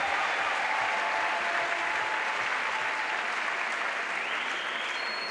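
Steady, dense applause from a church crusade congregation, an offering of acclaim for the Lord, sustained and loud from start to finish with no voices standing out.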